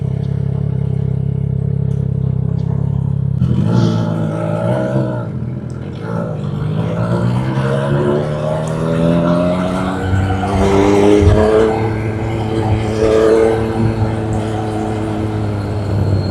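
A car travels along a scenic provincial road, its engine and tyre noise rising and sweeping past in a steady, fairly loud rush with a falling pitch as it goes by.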